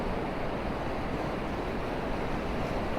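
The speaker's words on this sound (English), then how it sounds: "I'm just enjoying watching these waves roll in right now." Sea waves roll in steadily along Blackpool promenade on a misty, windless morning, a continuous close wash of surf with no distinct breaks and no voices.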